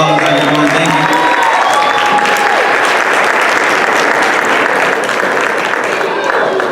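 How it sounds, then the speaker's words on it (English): Sustained loud applause from a crowd, steady clapping throughout with some tonal music fading out at the start. "If we can get him one more round of applause, everyone"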